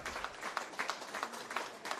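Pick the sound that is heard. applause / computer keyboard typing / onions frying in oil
applause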